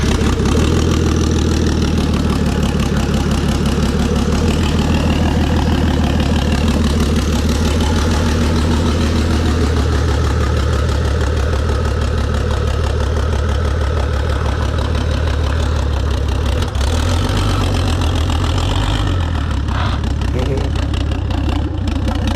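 A turbocharged BMW E36 engine running loud and close, a rough, steady rumble with a throbbing low pulse that barely changes over the stretch, with people talking over it.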